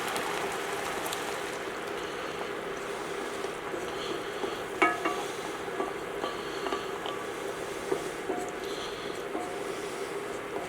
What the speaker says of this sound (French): On va y mettre le verre de vin blanc.